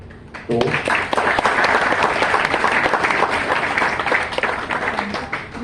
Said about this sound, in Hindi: तो तालियां इसलिए कि अब बस भी करो